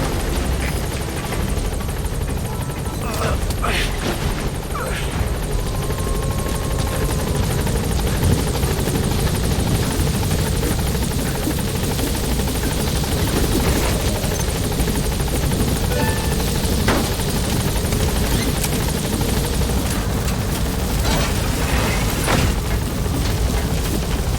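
Support helicopter in Metal Gear Solid V: The Phantom Pain hovering near a landing zone, its rotor thumping in a continuous loud drone for the whole stretch, with occasional low rumbles.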